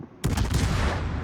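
Gunfire from a Brewster Buffalo fighter plane in an aerial combat video game bursts in abruptly as a loud, dense, continuous volley of shots that rattles on without a break.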